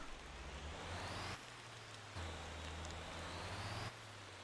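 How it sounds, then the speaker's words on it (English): Steady rain hiss from a light shower in the driving game Motor Town under a low truck engine hum that swells and drops twice, continuous and moderately loud with no talking. "Nice little rain shower."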